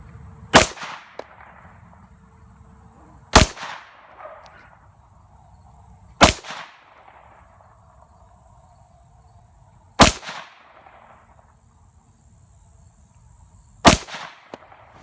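Kimber 1911 pistol firing Hornady HAP 115-grain 9mm reloads, five sharp, loud gunshots spaced a few seconds apart, each followed by a brief echo and quiet background between shots.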